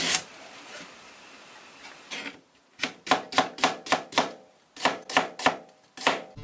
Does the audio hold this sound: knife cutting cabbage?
yes